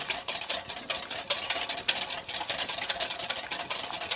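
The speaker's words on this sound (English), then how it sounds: "just whisking constantly" A whisk beats rapidly and constantly as oil is worked into a Dijon mustard and apple cider vinegar vinaigrette, a fast, even, rattling rhythm close by with no speech.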